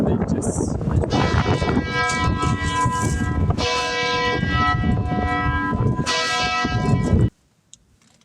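Church bells of the Mother Teresa Cathedral in Pristina ring loudly and close in a dense, sustained peal with rich overlapping tones, swelling in waves for about seven seconds before stopping abruptly into near silence.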